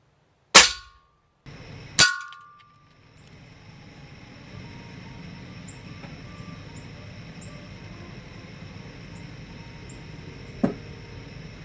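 Two sharp, loud air rifle cracks close together, a Daisy 880 or Ruger Air Hawk Elite II, followed by a quiet outdoor hum and one fainter distant click.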